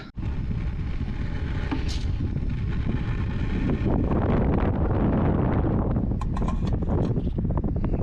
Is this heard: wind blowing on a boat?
yes